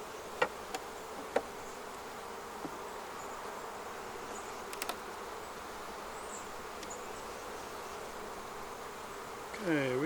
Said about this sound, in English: Okay, we have some bees there.